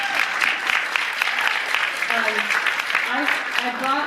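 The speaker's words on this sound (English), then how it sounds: "So we need to give Sam Barsky a really big round of applause." Sustained applause from an audience at a seed talk at Kalamazoo College, dense clapping throughout with a few voices calling out near the end.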